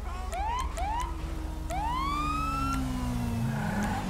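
Police car siren in GTA5 role play: a wailing electronic siren rising in repeated sweeps over a steady low engine drone, loud and close, with no talking.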